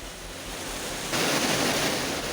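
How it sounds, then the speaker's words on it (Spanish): Torrential downpour pouring onto a street, a steady broadband hiss of rain that swells noticeably louder partway through, dense and continuous with no voices. "Aquí ya agarró fuerza la lluvia, aguacero"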